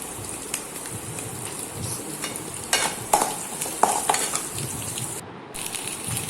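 Onions frying with ginger and asafoetida added, for kuzhi paniyaram, give a close crackling sizzle with several sharp scraping stirs of a spoon against the pan, loudest in the middle.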